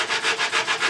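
Close, rhythmic rubbing as a hand sander is pushed back and forth over turned wood, roughly four brisk strokes in a second.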